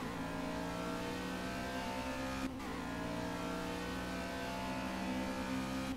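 Race car engine pulling out of the pits at Bathurst in a sim racing game, a steady loud droning hum with a brief dip around the middle, no speech.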